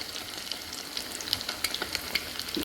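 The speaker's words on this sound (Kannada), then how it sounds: "ಎಲ್ಲವನ್ನು ಫ್ರೈ ಮಾಡಿದ್ದೀನಿ" Egg cutlets fry in hot oil, giving a faint, steady hiss with scattered small pops and crackles, quiet and alone.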